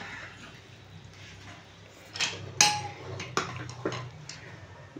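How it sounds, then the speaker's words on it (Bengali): A pressure cooker of boiled potatoes is opened for a Bengali aloo posto, with a few sharp metallic clanks and clinks of lid and pot over a quiet kitchen background. "কুকারটা খুলে নিলাম।"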